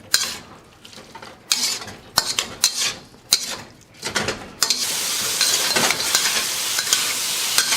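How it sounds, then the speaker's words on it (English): Metal utensils scrape and clatter against a pan in bursts, then a loud continuous sizzle of Chinese food stir-frying on a hot plate takes over. "So give this a last stir fry"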